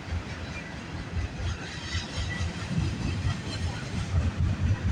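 Freight train of Union Pacific and BNSF units rolling past on the rails on a rainy morning, a steady close rumble with rattling wheels and a continuous low roar throughout, no voices.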